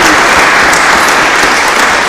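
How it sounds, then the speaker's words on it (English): Loud, close applause from a symposium audience fills the whole short stretch, a steady wash of clapping with no voices over it. "a round of applause for him as well"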